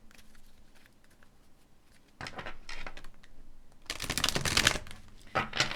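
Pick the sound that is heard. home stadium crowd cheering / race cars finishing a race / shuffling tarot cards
shuffling tarot cards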